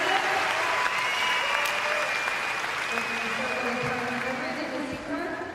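Arena crowd applause at the 2011 Trampoline World Championships in Birmingham, a broad, steady roar of clapping with faint tonal arena sounds while a commentator talks over it.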